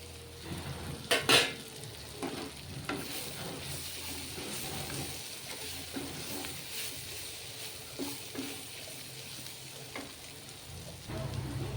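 A steady sizzle of bitter gourd frying with spices, with stirring scrapes and a few clinks of a utensil against the pan, no voices.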